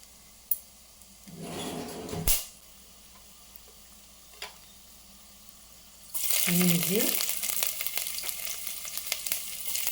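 Cumin and cashews go into a pan for millet pongal, with a few clinks and brief bursts of sound at first, then a loud, sustained sizzle of frying oil. Someone speaks over it.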